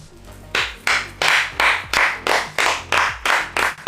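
Hands clap close by in a steady, slow rhythm, about nine separate loud claps evenly spaced with brief gaps between them.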